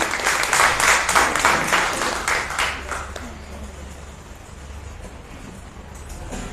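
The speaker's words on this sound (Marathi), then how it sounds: "आपण सगळ्यांनी टाळ्या वाजवून दादांचं स्वागत करूया." An audience at a Ratnagiri community gathering claps to welcome the chief guest, a loud burst of applause for about three seconds that then thins to a quiet room hum.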